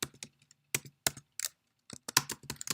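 Close, crisp keystrokes on a computer keyboard as a novel title is typed into a document header, coming in quick irregular bursts with short pauses between them.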